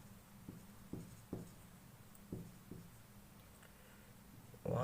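Chalk or marker tapping and scraping on a board during a computer architecture lecture on decimal to hexadecimal conversion, several short strokes at an irregular pace, fairly faint in a quiet room, ending with a louder rustle.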